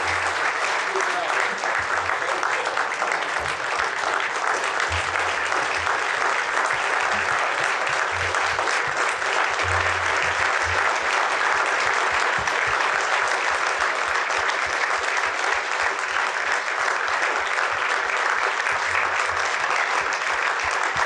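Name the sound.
round of applause for guests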